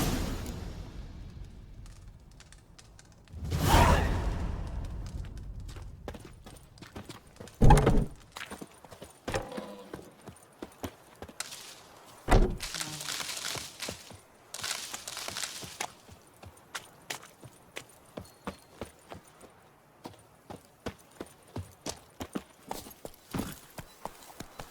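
Horse hooves in The Witcher 3: Wild Hunt clip-clopping steadily into a gallop, close and rhythmic, with a few louder impacts early on and no talking.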